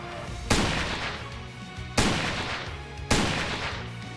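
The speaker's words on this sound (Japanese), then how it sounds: "グレネード発射。" Three heavy booming shots from a grenade launcher in the video game StarWard ring out about a second apart, each a sharp loud blast with a short rumbling tail, no voices.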